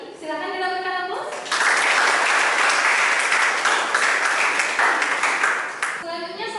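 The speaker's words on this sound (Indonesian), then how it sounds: "Silakan dilakukan aplaus" A classroom group bursts into loud, dense hand clapping for several seconds after a teacher's cue, with a voice talking just before and after the applause.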